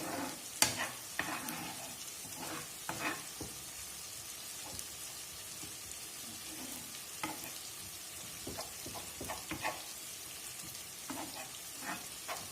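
Beef goulash ingredients fry in oil in a pan while being stirred, with a steady soft sizzle broken by scattered scraping knocks of the utensil against the pan, close and moderately quiet.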